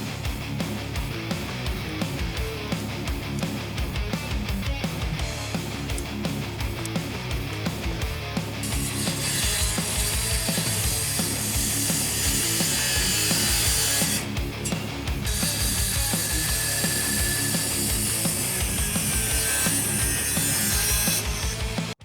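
Skil 12V compact circular saw with a 5.5-inch blade cutting a wooden deck baluster, a close whirring motor that rises into a loud, harsh cutting whine for several seconds, with a brief dip between cuts.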